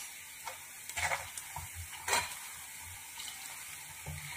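Potato fingers frying in hot oil: a continuous close sizzle with a few louder bubbling bursts and stirring clinks, no voices.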